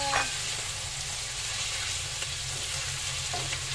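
Humba pork sautéing in a pan, a steady close sizzle and fry with a few clinks from stirring, running alone without talk.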